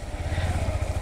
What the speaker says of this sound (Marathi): ऑफ रोडिंग बाईक चालू आहे सध्या